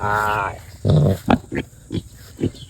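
A boar pig grunts and snorts close by during a heat test on a sow, a run of deep throaty grunts followed by several short sharp snorts at uneven intervals.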